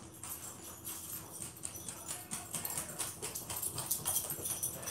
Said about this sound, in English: that is how I usually get her to stop barking at nothing